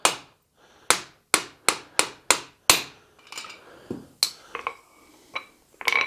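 Hammer blows strike a metal spike to cut off its excess length, a run of sharp, evenly spaced ringing hits followed by lighter, irregular taps and scrapes, all close and loud with no talking.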